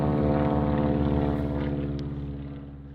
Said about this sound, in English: We got a plane above us now.